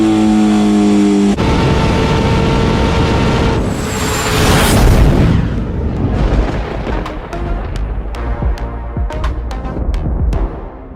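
A 2021 Honda CBR1000RR-R Fireblade SP sport bike fitted with a Leo Vince slip-on exhaust, heard up close as a loud, rough engine roar that swells and then breaks into a series of sharp, crackling revs and pops.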